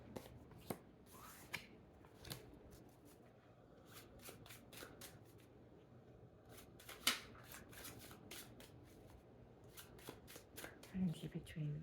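Tarot cards are shuffled by hand in a quiet room, with repeated soft riffles and card flicks scattered through the passage, plus occasional louder snaps near the end.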